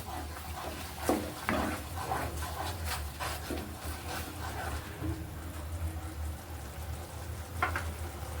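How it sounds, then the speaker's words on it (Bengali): Spice paste for a vegetarian begun rezala fries in a pan with salt and sugar, a soft continuous sizzle broken by scraping and stirring strokes at close range. "মশলাটা খুব ভালো করে কষিয়ে নেব।"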